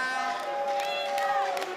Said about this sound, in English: Ugandan crowd in the building is loving the finish, loving the KO